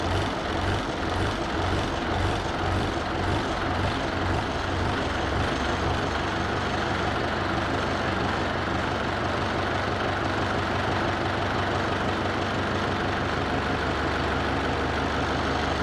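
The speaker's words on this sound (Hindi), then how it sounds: "इंजन शुरू करें। आइडलिंग स्टॉप स्क्रू को धीरे धीरे कसें। इंजन की गति धीरे धीरे बढ़ेगी।" A YUVO 575DI tractor diesel engine idles loud and close as its idle speed is adjusted upward, a steady heavy rumble with a rhythmic low thump that smooths out, with no talk.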